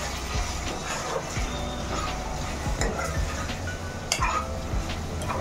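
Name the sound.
stirring chili powder into tomato curry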